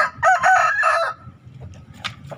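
A young fighting cock being raised for the arena crows once, loud and close, followed by a few softer clucks and rustling.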